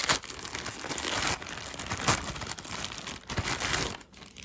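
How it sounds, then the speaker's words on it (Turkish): Plastic crinkles and crackles in irregular bursts as the plastic bag around a wireless mouse is handled and pulled open close up, with no talking. "bu şekilde poşetini açalım"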